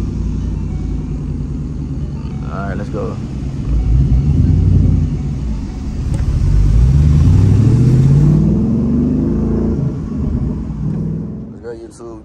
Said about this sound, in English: I'm about to get ready to turn the car back on